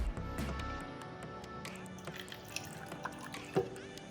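Mineral water trickles and drips into a Brazilian black tarantula enclosure, with soft close splashes and scattered drops over a quiet room; a louder splash lands near the end.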